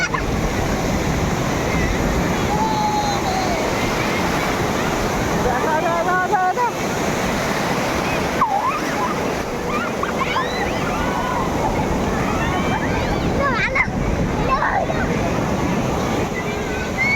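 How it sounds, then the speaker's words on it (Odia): Sea waves at a beach roar steadily and loudly with wind buffeting the microphone, while voices and bird-like calls come through over the surf. "ଲହଡ଼ି ସାଙ୍ଗରେ ଖେଳୁଛ?"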